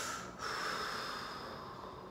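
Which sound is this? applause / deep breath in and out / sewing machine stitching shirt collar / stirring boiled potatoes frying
deep breath in and out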